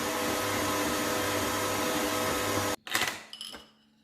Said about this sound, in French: Dans un premier temps, je le mets sur un robot à vitesse 2